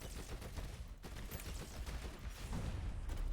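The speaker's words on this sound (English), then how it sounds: "Homing rockets!" Barrage of homing rockets in the action RPG DreadHunter, a dense rapid rattle of repeated impacts and launches running continuously and loudly throughout, with no talk.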